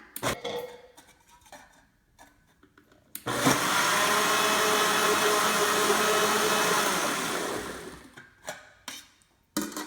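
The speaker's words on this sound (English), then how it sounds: "So we just plugged it in at the last minute, and then now it is getting ready to do the grind." A blender grinding avocado whirs loudly and continuously for several seconds, starting abruptly and winding down, with scattered clicks and clatter before and after.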